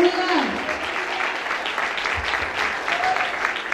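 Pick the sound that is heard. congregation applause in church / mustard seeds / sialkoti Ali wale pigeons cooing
congregation applause in church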